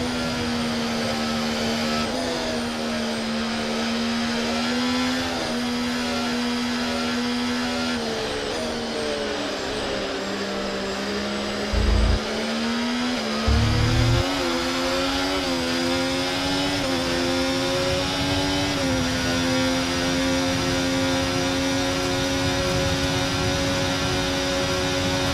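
Formula 1 car engine in the F1 24 video game during a pit stop in Miami, a loud sustained high-pitched whine that drops and shifts in pitch as the car slows, with a couple of brief low thuds midway.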